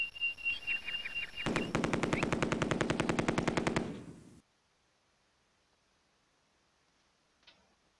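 Rapid machine gun fire in a World War II video game, a fast even burst of loud shots lasting a few seconds, then near silence with one faint later click.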